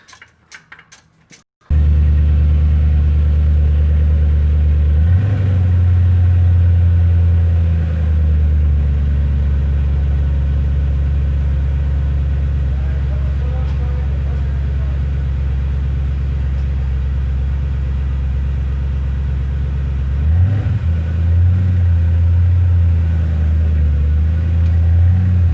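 A 2004 Ford Mustang GT V8, freshly fitted with a replacement clutch, cranks briefly and fires into a loud, steady idle that rumbles on close by, with a short rev partway through and another rise in pitch near the end.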